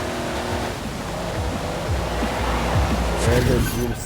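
A GMC Cyclone races in Forza Horizon 4, its engine a steady, loud drone with low harmonic rumble that rises slightly near the finish line, while someone talks over it.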